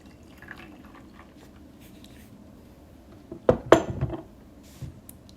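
Bingdao pu'er tea is poured in a short splashing burst near the end of a quiet stretch, close and moderately loud, followed by a faint trickle.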